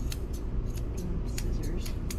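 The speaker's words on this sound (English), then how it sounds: "Scissors." Scissors snip repeatedly through an English Cream goldendoodle's foot hair in quick, fairly even strokes, close by, with a soft low rumble underneath.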